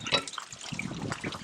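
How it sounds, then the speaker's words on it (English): Water sprays and splashes inside an opened hot water heater tank as the nozzle is rotated to rinse out sediment and debris chips, a brief burst of hissing, trickling spray. "Rotate it around, try and get that tank sprayed real good."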